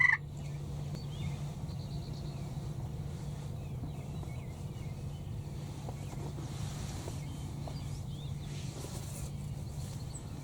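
A young wild tom turkey calls during a spring hunt in New York, with faint, distant gobbles and clucks over a steady low outdoor hum.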